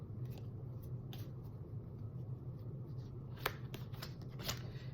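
Tarot cards being shuffled by hand, a steady papery riffling with a few sharper snaps and flicks near the end, close and fairly quiet over a low background hum, with no talking.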